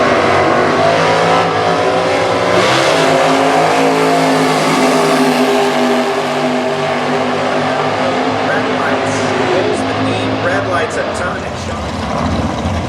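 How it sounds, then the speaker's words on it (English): A 1933 Ford race car roars at a drag racetrack with a loud, sustained engine drone that rises in pitch as it revs, heard close alongside an announcer's voice. "Tim Gillespie, a 33 Ford."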